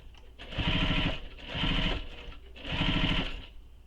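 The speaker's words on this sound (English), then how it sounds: "and sew it in place" A sewing machine runs a long basting stitch to attach flat piping to a tote bag, in three steady bursts of rapid stitching separated by brief pauses, close and fairly loud.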